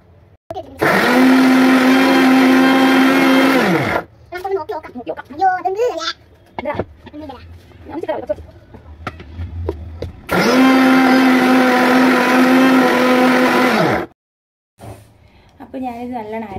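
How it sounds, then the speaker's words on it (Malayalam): A mixer grinder whirs loudly as it grinds fresh herbs for homemade coconut hair oil, running in two long bursts with a pause between, while a voice chatters and babbles in the gaps. "അപ്പോൾ ഇതെല്ലാം കൂടി ഒന്ന് മിക്സിയിലിട്ട് അരച്ചെടുക്കാം."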